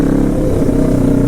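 A 500cc quad's engine on a forest road, holding a loud, close, steady growl with a slight rise as the throttle opens, a low rough drone throughout.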